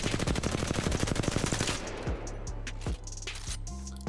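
Rapid R99 submachine gun fire in Apex Legends, a dense stream of shots for nearly two seconds, then a few scattered bursts and mechanical clicks as the firing trails off.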